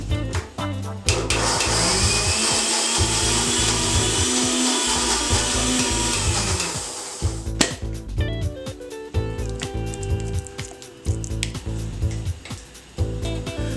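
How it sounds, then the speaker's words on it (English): A kitchen grinder runs loud and close, whirring steadily as it grinds green chutney of chillies and coriander. After about seven seconds it stops, and clatter and handling noises follow. "Okay, now let's give the chutney a quick grind."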